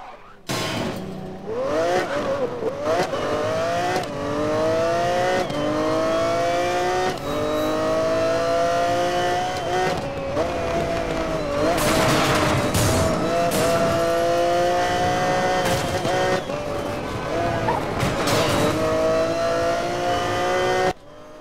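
A car engine in Need for Speed: Most Wanted revs hard and loud throughout, climbing and dropping pitch through gear changes, with bursts of tire squeal and roaring acceleration near the middle, no talk.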